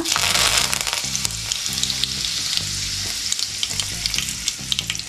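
Cumin seeds and curry leaves hitting hot oil for a Marathi tomato saar, bursting into a loud, crackling sizzle that stays strong throughout, with rapid popping and faint music beneath.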